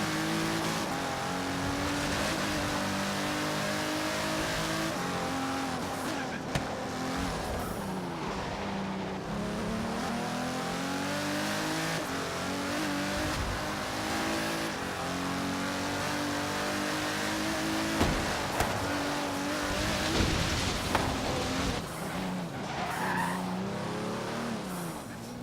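Car racing down a highway and weaving through traffic in Forza Horizon 3, engine loud and continuous throughout with rising and falling revs, gear changes and bursts of tire squeal, no talking.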